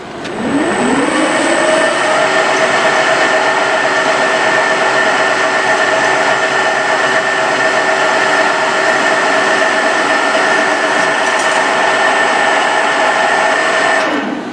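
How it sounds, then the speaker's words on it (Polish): A Corma milling machine salvaged from scrap spins up and drills a hole, giving a loud, steady motor whine with a rising pitch at startup that then holds constant, close by and without speech. "no bez większych problemów wywierciłem ten otwór"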